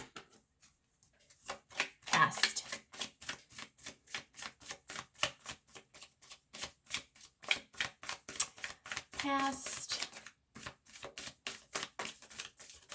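Tarot cards are shuffled in a quick, steady rhythm of crisp riffling bursts, close up, with a few faint words spoken partway through.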